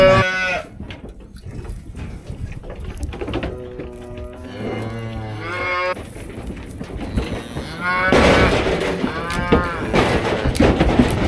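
Cows and young calves, including twin calves, mooing in a fenced pasture by a corn field, with several long, loud lowing calls in succession, some deep and some higher-pitched, heard without talk.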